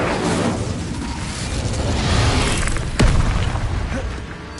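A burst of fire from the Incendio spell in Hogwarts Legacy, a dense roaring blast that swells steadily and then cracks sharply near the end, loud and continuous with no speech over it.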